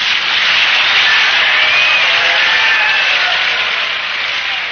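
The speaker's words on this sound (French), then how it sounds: "Merci de vos applaudissements." Steady applause from a crowd, dense and continuous throughout with no voices, tapering very slightly toward the end.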